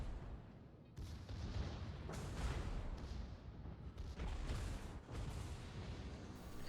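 Heavy battleship guns booming in World of Warships on the Russian battleship Sinop, a dense wall of rumbling low-end blasts that surges in several waves, loud and close with no talking.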